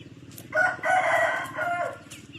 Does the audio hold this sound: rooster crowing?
yes